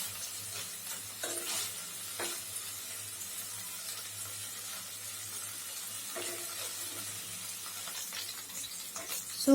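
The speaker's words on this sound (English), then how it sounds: "I am just shallow frying this paneer." Paneer cubes shallow frying in a pan for palak paneer give a soft, steady sizzle close by, with a few light scrapes and stirring taps.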